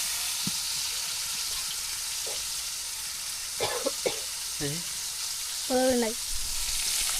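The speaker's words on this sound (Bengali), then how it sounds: "এই মাছগুলো কিন্তু খুব সুন্দরভাবে ভেজে নেব" Fish frying in oil in a pot over a village clay stove, a steady soft sizzle and hiss running throughout, with a few brief clinks and scrapes of stirring and a short voice near the end.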